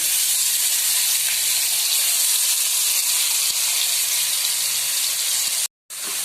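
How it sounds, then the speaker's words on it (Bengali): Green chillies and about a dozen garlic cloves frying in a wok, giving an even, unbroken sizzling hiss up close that cuts out briefly just before the end. "এবারে এটা কড়াতে দিয়ে একটু নাড়াচাড়া করবো"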